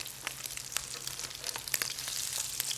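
Crab cakes fry in a pan over turned-down heat, a soft, even sizzle with scattered crackling pops, heard up close with no talking.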